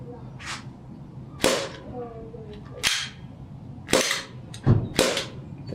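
Sharp, loud single pops from an HPA airsoft pistol dry firing, about five shots spaced roughly a second apart with brief metallic clacks, and a voice faintly audible in the background.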